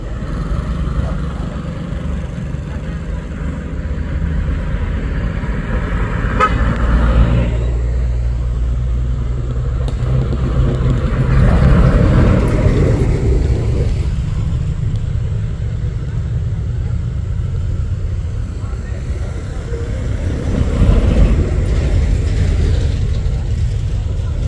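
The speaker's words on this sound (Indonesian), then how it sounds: "Truk tangki yang dari atas." Tanker truck rolling down a hill road at Bukit Kodok, a heavy low engine rumble that swells and fades as it passes close, continuing for a long stretch.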